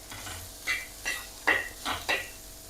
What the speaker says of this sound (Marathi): ते सगळीकडे व्यवस्थित मिक्स करून घ्यायचं. आणि ते पण थोडं फ्राय झालं पाहिजे.